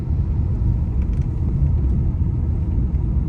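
A Tata Punch EV electric car drives along a mountain road from Delhi toward Lansdowne, heard from inside as a steady low road and tyre rumble with no talking.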